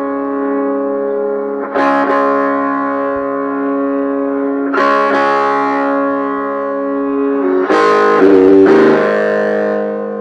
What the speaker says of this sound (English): Let's hit the distortion.